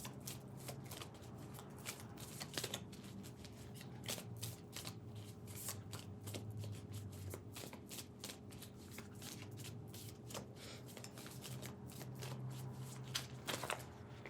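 Tarot cards are shuffled by hand in a steady run of soft riffling and slapping, close and quiet with sharp clicks scattered throughout and no talking.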